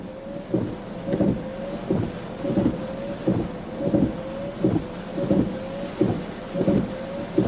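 A storm roars against a storm chaser's vehicle during a tornado warning in Ohio, with a steady, loud wash of wind and hail or heavy rain. Rhythmic thumps repeat under it about every second, and no one talks.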